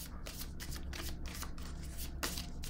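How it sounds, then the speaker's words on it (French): Tarot cards are handled and shuffled during a reading, with quick papery flicks and slaps repeating steadily up close, with no one talking. "Je vais déposer une carte sur la personne de loi."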